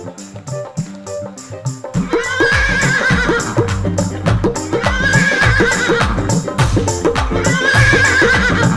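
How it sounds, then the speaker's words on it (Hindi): At a devotional bhajan event, a horse whinnies repeatedly over a steady rhythmic backing, with a dense clattering wash of crowd applause filling the sound throughout. "एक बार लीले घोड़े की आवाज आए आपकी तालियों के साथ।"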